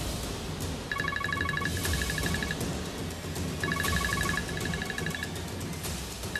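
A phone rings in two bursts of bright, repeating electronic trills over a busy background of music and room noise, with no speech.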